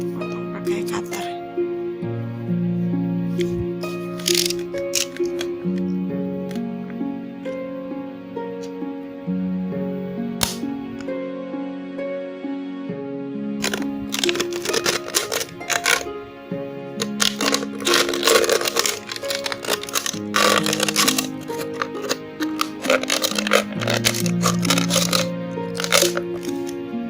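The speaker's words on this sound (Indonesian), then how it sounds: "Potong pakai cutter." A cutter knife slices through a used plastic bottle, giving repeated crackling, crunching snaps and scraping strokes up close over about half a minute, with a voice talking over parts of it.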